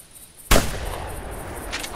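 A single loud, close shotgun blast goes off in the hunting video game theHunter, from 2017. The sharp crack follows a short quiet stretch and leaves a noisy tail, with no talking.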